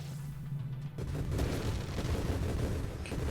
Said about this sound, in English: my grenades are doing explosions on top of the explosions on the screen